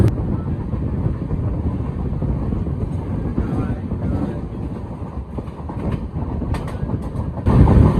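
A passenger train rolls along the rails with a loud, continuous rumble and faint clickety-clack, with wind buffeting the microphone and a louder surge near the end.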